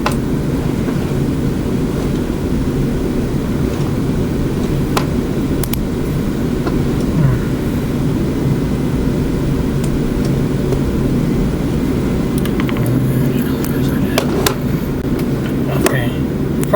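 An airliner takes off in Microsoft Flight Simulator 2020, its steady loud engine roar and rushing air running throughout while a person talks over it.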